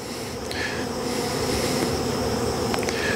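Honey bees buzz steadily in an outdoor bee yard of colonies on four-way pallets, a continuous close drone with a few faint higher tones drifting over it, no voices.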